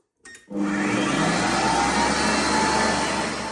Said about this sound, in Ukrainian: Вмикаємо і спрацьовує підсвіточка.